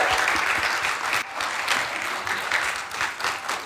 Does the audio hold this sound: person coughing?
no